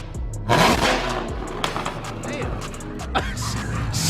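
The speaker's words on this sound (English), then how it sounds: "Hey Charlie, give it a couple revs." Chevrolet Camaro ZL1 fitted with new 2-inch long-tube headers and a 3-inch exhaust, revved a couple of times up close: sharp loud bursts of engine roar rising and falling over a steady idle, with people talking around it.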